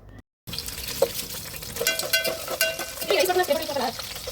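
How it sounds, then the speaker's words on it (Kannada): Green chillies fry in hot oil for a chicken biryani, crackling and sizzling up close while a spoon stirs and scrapes the pan, after a brief cut near the start. "ನೆಕ್ಸ್ಟ್ ಅದಕ್ಕೆ ಹಸಿಮೆಣ್ಸಿನ್ಕಾಯಿ ಹಾಕ್ಕೊಂಡು ಅದನ್ನು ಕೂಡ ಎಣ್ಣೆಯಲ್ಲಿ ಫ್ರೈ ಮಾಡ್ಕೋಬೇಕು"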